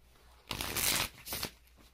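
A deck of tarot cards being shuffled by hand in two quick close bursts, the first longer and louder riffle followed by a shorter one, with quiet room tone around them.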